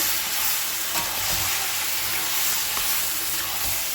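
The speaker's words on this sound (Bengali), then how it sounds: "ওই পেঁয়াজ ভাজার সাথেই আমি দিয়ে দেবো পেঁয়াজটা ভাজা ভাজা আমার হয়ে এসেছে এবার এটা নাড়াচাড়া দিয়ে নেবো" Mutton stirred in a pan with onions frying in oil, giving a steady close sizzle and hiss with occasional scraping of the stirring spoon, no talking.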